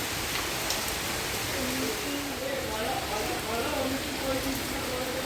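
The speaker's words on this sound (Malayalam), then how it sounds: "നല്ല മഴ." Heavy rain pours down steadily in a dense, even hiss that continues without a break. Faint voices sit low beneath the downpour.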